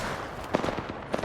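Quick, sharp bursts of gunfire crackle in a battle royale video game, a few scattered reports sounding at middle distance with no voices over them.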